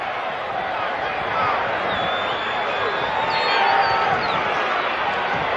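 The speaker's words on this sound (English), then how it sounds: "Crowd is huge and cheering." Huge crowd cheering at an American football game, Michigan Panthers at Birmingham Stallions, a steady dense roar with faint whistles that swells slightly in the middle, with no voices speaking over it.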